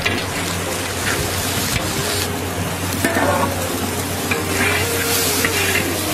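Onion, garlic, ginger and ground spices sizzle and fry steadily in a hot pan for a Chettinad mutton dry fry, loud and continuous, with occasional stirring scrapes and no talking.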